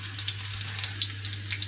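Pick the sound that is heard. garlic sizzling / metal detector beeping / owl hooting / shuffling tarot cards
garlic sizzling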